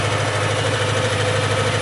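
A ZAZ 966 car engine idles steadily with a low, continuous rumble and even vibration, loud and close, with no talk over it.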